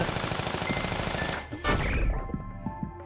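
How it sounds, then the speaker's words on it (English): A chain gun in the YIIK video game fires a fast continuous stream of shots for about a second and a half, loud and close, then cuts off into a fading tail and scattered softer effects. "Chain gun!"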